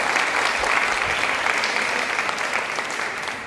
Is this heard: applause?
yes